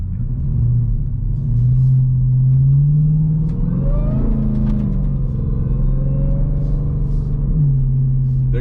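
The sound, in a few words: Dodge Trackhawk engine revving while drifting uphill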